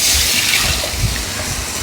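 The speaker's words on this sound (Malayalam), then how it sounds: "ഇനി ഇതിലേക്ക് വെള്ളം" Water pours steadily into a cooking pan over spices, a continuous close, rushing splash for the whole moment.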